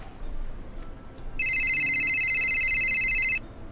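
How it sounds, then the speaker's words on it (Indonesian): Outgoing telephone call ringing: after a brief quiet pause, a steady electronic ringback tone starts and holds clearly for about two seconds, then stops abruptly, with no talk over it. "Kita telepon Kak Kris dulu yuk"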